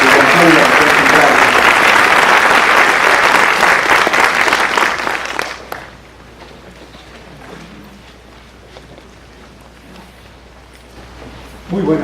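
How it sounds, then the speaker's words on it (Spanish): Loud, warm applause from an audience of teachers at an international congress, dense clapping for about five seconds before dying away to a quiet room with faint rustling. "pido que podamos recibirlo con ese caluroso, fuerte voto de aplausos de parte de todos nuestros docentes"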